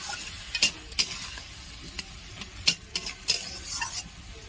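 Spices being sautéed and stirred in a pan while preparing Bengali-style chhatu (mushroom) curry, with a steady low sizzle broken by scattered sharp clinks and scrapes of a utensil against the pan.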